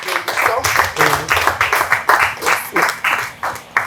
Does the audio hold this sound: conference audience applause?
yes